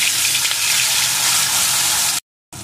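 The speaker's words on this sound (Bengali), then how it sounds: "এখন আমি প্রথমে ওই লবণ হলুদ মাখানো ইলিশ মাছের টুকরোগুলোকে দিয়ে" Pieces of hilsa fish coated in salt and turmeric sizzle steadily and loudly in hot mustard oil, a continuous dense frying hiss that cuts out briefly near the end before resuming.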